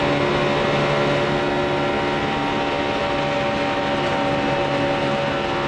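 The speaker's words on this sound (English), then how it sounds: "you could hear how Jimmy had to back out right there as they got there because the 43 came up" Engine roar of a NASCAR stock car at Talladega as the driver backs off the throttle, a dense, steady drone with no one talking.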